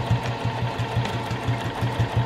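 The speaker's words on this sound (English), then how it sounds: "I'm just going to do a back stitch right here." A sewing machine back stitches through stacked fabric layers on a knitting and crochet needle case, a rapid, steady mechanical run of needle strokes, close and alone with no talk.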